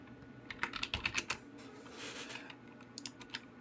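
Computer keyboard keys clack in quick bursts of typing, close and fairly quiet, with short pauses between clusters of keystrokes.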